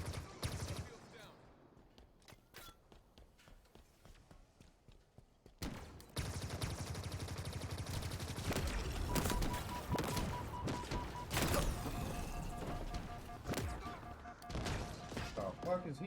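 Halo video game gunfire crackles in sparse shots, then erupts into dense, loud bursts of rapid automatic fire and impacts over a continuous battle din, with a player talking throughout.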